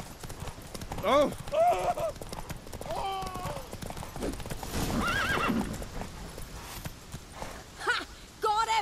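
Horse hooves clip-clop at a gallop in The Witcher 3, with several loud neighs and whinnies breaking in over game music and brief voices.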